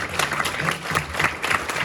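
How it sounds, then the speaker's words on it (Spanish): Brief, loud burst of applause from a prayer gathering honoring Mother Mary, with many hands clapping in an uneven patter and a few faint crowd murmurs beneath. "démosle un aplauso a Mamita María"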